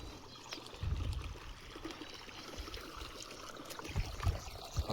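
Irrigation water running into a millet field, a faint, steady trickling and pouring flow with a few louder gurgling surges, and no talking.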